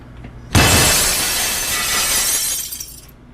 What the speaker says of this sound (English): Did you just chuck the glass?